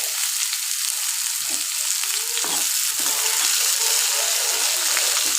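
Whole cardamom and cinnamon sputter and sizzle in hot oil as a tempering for a rohu fish curry with potato and green banana, a steady close crackle with no talking.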